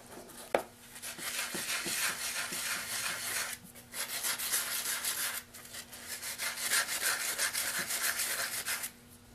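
Soaked steel 1-2-3 blocks being scrubbed clean, a steady broadband rubbing and scouring sound in long strokes with brief pauses and a sharp knock near the start, close and moderately loud.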